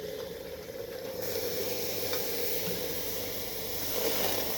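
Steady, soft hissing of steam from a warmed empty teapot for Moroccan mint tea, a continuous airy wash with no voices.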